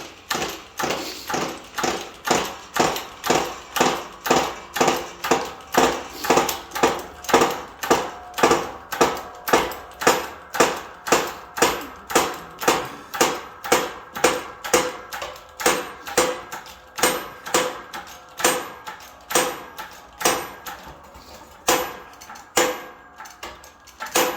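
A long run of sharp mechanical pops and clicks as a gear is pressed onto a shaft during an MT82 gearbox rebuild, at a steady pace, roughly two per second, the rhythm growing slightly uneven near the end.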